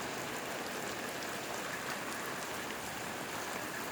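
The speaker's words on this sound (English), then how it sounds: "Yeah, the rain isn't picking up." Steady, dense rain pours down during a thunderstorm in Seattle, an even broadband hiss of drops hitting surfaces with no talking over it.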